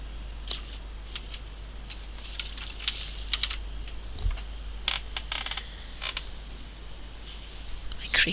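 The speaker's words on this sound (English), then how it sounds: "Creaky. It's not my arms, it's my chair." A chair creaks in scattered short bursts while someone paints dragons and a castle wall in watercolour, a few sharp creaks standing out against a steady low hum.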